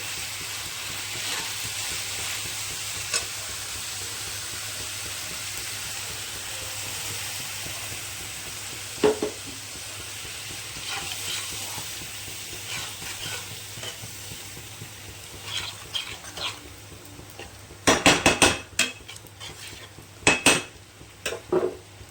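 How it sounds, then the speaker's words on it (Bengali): Spice masala of cumin powder, coriander powder and salt with a splash of water is stirred and sautéed in oil for Kashmiri dum aloo, giving a steady low sizzle under scraping spatula strokes and a few sharp utensil clinks near the end. "তেল বেরোনো অবধি মশলাটা আমি কষতে থাকবো"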